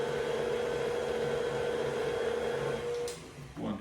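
Stand mixer whirring as it blends butter with a little salt, a steady motorized hum with a whine, then a brief clatter and stop near the end.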